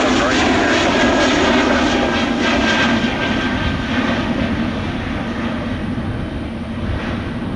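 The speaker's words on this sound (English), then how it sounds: "Runway 17 right, clear for takeoff." Jet airliner taking off at Orlando International Airport, a loud sustained engine roar close by that slowly fades slightly as the aircraft departs, with radio chatter faintly underneath.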